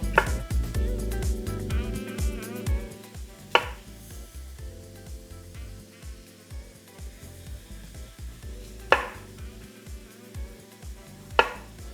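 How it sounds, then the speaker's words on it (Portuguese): Knife chopping half a red and half a yellow bell pepper on a board, with steady close rhythmic cuts and a few sharper knocks, bursts of quicker chopping between pauses, no talking. "Agora eu vou picar meio pimentão vermelho e meio pimentão amarelo."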